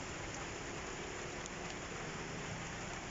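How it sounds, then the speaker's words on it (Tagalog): Heavy rain pours down in a steady, dense hiss with no letup, moderately loud and even throughout, with no voices. "It's gonna rain so hard again."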